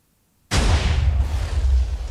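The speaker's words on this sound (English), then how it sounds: "now TNT explosions are actually handled really well" A Minecraft TNT explosion bursts suddenly out of silence, a loud, close, deep boom that rumbles on without fading for about two seconds.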